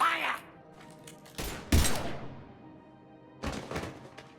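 Gunfire rings out in a Mass Effect 3 firefight: a few sharp, loud bursts and thuds spaced irregularly over several seconds, with quieter gaps and some fading voices between them.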